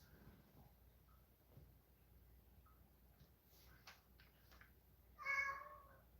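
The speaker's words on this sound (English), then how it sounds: "What are you meowing about so much?" A cat gives one clear meow near the end after a few faint, soft sounds, close but fairly quiet with no talk.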